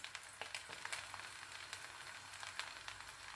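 Pancit noodles, sotanghon mixed with canton, sizzling and frying in a wok while being stirred, a steady close crackle with scraping clicks and no talk.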